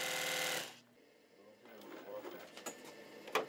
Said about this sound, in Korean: 오늘도 동고동락 40년 지기 재봉틀을 지키고 계신